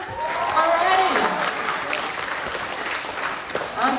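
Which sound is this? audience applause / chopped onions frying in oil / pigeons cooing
audience applause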